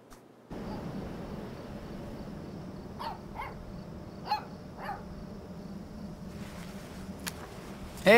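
A puppy in the video game Life is Strange 2 gives a few short barks and yips, moderately close, over a steady ambient bed of insects and crickets.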